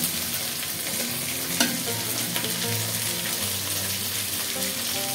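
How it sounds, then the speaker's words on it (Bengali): Rohu fish head frying in oil with a little turmeric, a loud, dense, continuous sizzle right up close, with one brief knock and no talking. "অল্প একটু হলুদ দেবো লাল লাল করে আমি মাথাটা ভেজে"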